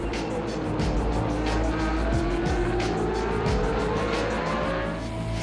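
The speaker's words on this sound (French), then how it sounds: "Caméra embarquée avec l'illustre Jean-Michel Martin sur sa Fittipaldi F8" Onboard sound from a Fittipaldi F8 historic Formula One car racing at the Spa-Classic, a loud, rising engine note with rapid gear changes and a dense roar throughout.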